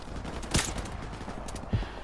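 Gunfire in the Modern Warfare Remastered campaign mission Blackout, two distinct shots about a second apart against a steady background of game ambience.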